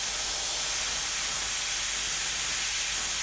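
An airbrush spraying paint onto a model dragon, giving a steady, close, breathy hiss that holds unbroken throughout with no talking.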